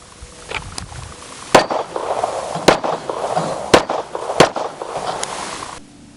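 Rifle shots strike a moving steel target system outdoors, a handful of sharp, loud cracks spaced irregularly over a steady background rumble of the target's motor.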